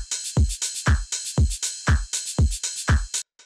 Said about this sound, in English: The next thing that we have here is the drum bus,